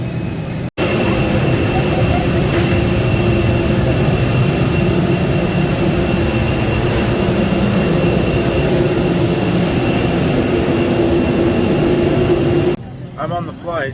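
A steady, loud airliner cabin drone fills the space during a flight to Kenya, a constant low roar with a faint whine that drops away abruptly at the end.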